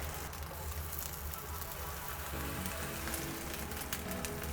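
Three beef hamburger patties with added beef fat frying over medium heat in a wok in a little oil, a dense, steady sizzle and crackle of hot oil, close up and continuous.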